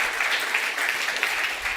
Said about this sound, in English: Please give a warm round of applause for Johan Garssen